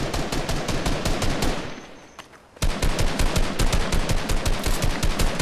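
Loud rapid automatic gunfire from the video game Fortnite fires in a dense burst, stops briefly, then resumes as a fast, regular volley to the end, with no talking.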